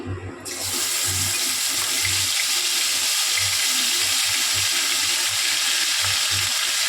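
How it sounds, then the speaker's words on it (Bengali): Water tipped from a bowl into a hot pan of fried whole spices with ginger and green chilli paste, made for stuffed potato curry, hisses and sizzles loudly and steadily, and a low gurgle pulses underneath. No one speaks. "সামান্য জল অ্যাড করে বাটিটা দিয়ে ওই জলটা দিয়ে দিলাম।"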